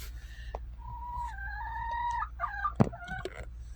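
Chickens cluck and make drawn-out, warbling calls nearby while nesting and laying eggs in an enclosed coop, with a low steady hum underneath.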